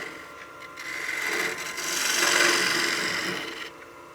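A wood-turning gouge cuts a utility box spinning on a lathe, giving a continuous rasping, hissing shave that swells and fades over a few seconds, close and alone without speech.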